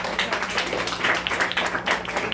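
A debate audience applauds a round of claps, steady and fairly close, continuing through the whole moment without a break.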